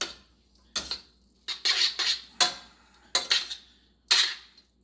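Spaghetti carbonara is tossed in a pan with rendered guanciale fat, giving repeated scraping, clinking strokes of utensil against metal in short bursts, close and fairly loud with quiet gaps.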